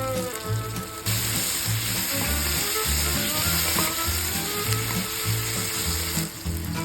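Tomatoes seasoned with salt and pepper sizzle and crackle in a frying pan, a bright continuous frying hiss with rhythmic stirring scrapes, loud and close, and no one speaking.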